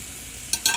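Seasoned chicken hits a hot pan, with a low steady sizzle followed by two quick bright bursts of spitting oil as the piece settles and browns.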